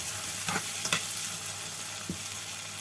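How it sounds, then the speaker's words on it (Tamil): Sautéed onions in a pan, a steady soft sizzle under a few sharp spoon scrapes and clicks, close by with no talk. "இந்த வெங்காய வதக்கல் வடிவாக வந்துட்டுது."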